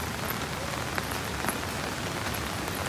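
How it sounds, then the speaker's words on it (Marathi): Heavy monsoon rain drums steadily on a nearby surface at a waterfall outing, a thick continuous patter with scattered louder drops and no voices. "आणि पाऊस पण खूप लागते"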